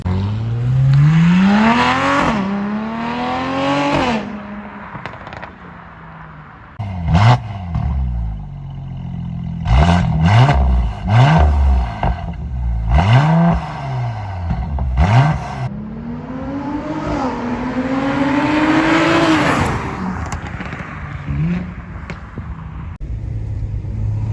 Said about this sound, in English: I'm running a Logos high flow 200 cell downpipe with the FI exhaust on my 2017 C43 Coupe